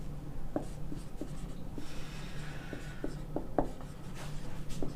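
Pen or marker writing on a board in a physics classroom, with soft scratchy strokes and taps in an uneven rhythm over a low steady hum, moderately close.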